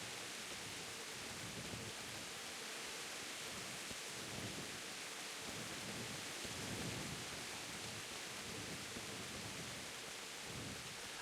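Steady rain falls in the medieval video game Kingdom Come: Deliverance, a quiet, even wash of hiss with faint low rumbles underneath, unchanging and without voices.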